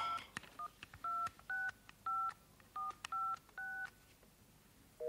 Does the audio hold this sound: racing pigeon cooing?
no